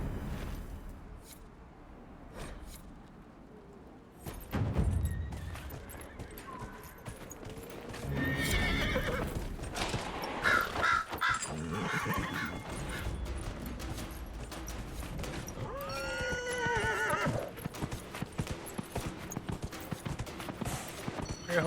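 A horse's hooves clatter in a fast galloping rhythm in the video game Dragon Age Inquisition, loud and close, joined by a whinny partway through and a busy background of other sounds.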